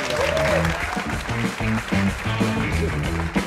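Studio audience applause on a late-night Turkish talk show, dense clapping mixed with background music and a brief voice, steady and fairly loud throughout.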